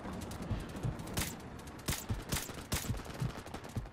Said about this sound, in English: Sounds like a dart gun.